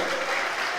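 A church congregation applauds in a brief, dense burst of clapping that is heard alone.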